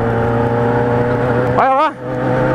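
A crooked car running sideways with its engine droning steadily up close, then a short revving rise in pitch before it drops away abruptly.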